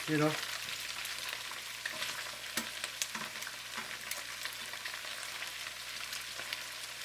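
Kung Pao pork spare ribs fry in hot oil with a steady, dense sizzle, broken by a few louder crackles and spatters as they are turned.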